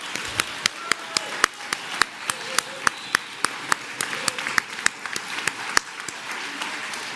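An audience applauding at a French event: a crowd's clapping murmur punctuated by sharp, evenly spaced individual claps that sound close and steady in rhythm throughout.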